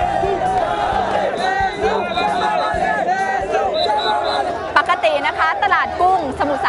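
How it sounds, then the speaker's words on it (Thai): A crowd of Burmese people gathers at a shrimp market, with dense chatter and periodic shouted calls, some voices rising into cheering bursts toward the end. "มีอาสาสมัครชาวพม่ามาเป็นกาดคอยดูแลฝูงชน ที่ตะโกนร้องเรียก เมซูเมซู หรือแม่ซูเป็นระยะระยะ"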